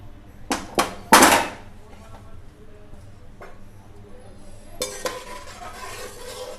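Fish curry ingredients stirred in a pot, opening with a few loud metallic clanks and scrapes of a spoon against the vessel, then quieter faint scraping and a later burst of stirring, close, no talking.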